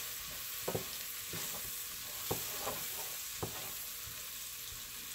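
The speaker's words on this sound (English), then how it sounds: "I'm going to add the onions and saute these a bit until they're softened a little bit" Onions sauté in a pan over medium-high heat, giving a steady bright sizzle with occasional soft scrapes and knocks from stirring. No voices.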